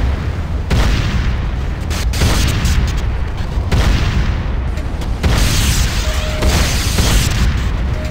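Enemy structures exploding in Command & Conquer Renegade, heavy rumbling blasts and booms rolling one into the next at a loud, sustained level, with debris crackle and low thunderous impacts filling the scene.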